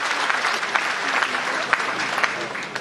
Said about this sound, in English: Let us give her a round of applause for her.